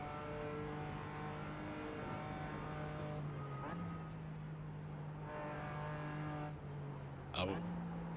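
Race cars in the iRacing sim at the Nürburgring 24 Hours, including a Ferrari, drone with a steady engine note and gear shifts as one passes nearby, while people talk over it.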